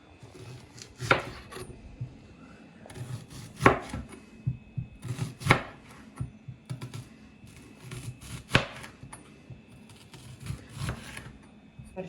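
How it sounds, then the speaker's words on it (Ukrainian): Knife slicing a large onion into thick rings on a cutting board, with sharp chops landing at irregular intervals about every couple of seconds, close and clear over soft handling noise. "Зараз будемо нарізати грубими кольцями"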